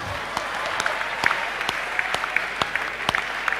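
Scattered, sparse clapping from a small church service congregation applauding a speaker, individual claps distinct and uneven throughout.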